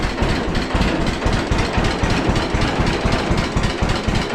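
A 1941 John Deere Model A tractor engine idles with a loud, steady chugging pulse, close and alone, its rhythmic low thumps running continuously with the carburetor still slightly out of adjustment.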